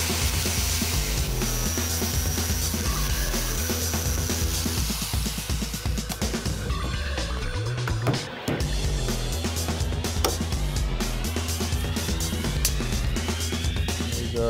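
Metal edge on a 1973 Buick Century body being trimmed with a power tool, a loud continuous grinding, rasping cut that runs steadily throughout with a brief pause midway.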